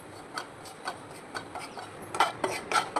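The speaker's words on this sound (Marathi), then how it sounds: "आता याच कढईमध्ये मी थोडंसं बेसन पीठ भाजून घेणार आहे" Gram flour roasts in a wok as a spoon stirs it, giving a string of light scraping taps in a loose repeating rhythm, close and soft, with no speech.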